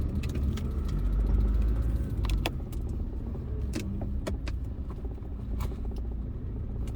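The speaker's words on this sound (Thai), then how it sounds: "เฉียวขับซาเล้งเอา" A motorcycle sidecar tricycle carrying an ice cream cart rumbles along with its engine running, a steady low drone joined by rattles and clicks from the vehicle.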